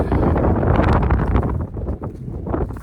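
Cold wind blowing across open hill country on a cattle farm, a steady broadband rush buffeting the microphone with gusts rising and easing, close and fairly loud throughout with no voices.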